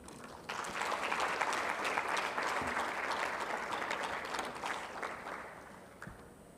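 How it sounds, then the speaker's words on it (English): Audience at a health research and policy symposium breaking into applause, a dense burst of clapping that swells quickly, holds for several seconds, then gradually thins out. "Another big round of applause"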